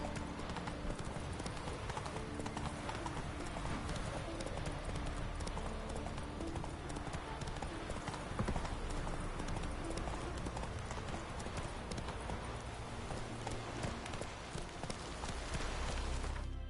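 Roach the horse gallops without a break in a video game, with a dense rapid clatter of hooves under constant loud game sound.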